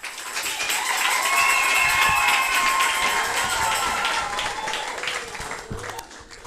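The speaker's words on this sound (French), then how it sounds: "Veuillez les applaudir à chaque entrée des groupes pour les encourager." An audience at a Sunday school year-end closing ceremony applauds as a group of children enters. Dense, sustained clapping from the start fades slightly toward the end, with faint voices mixed in.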